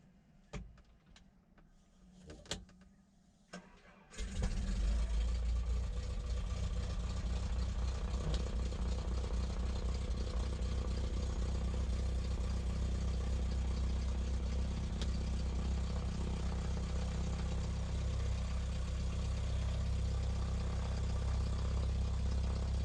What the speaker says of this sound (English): Starting engine.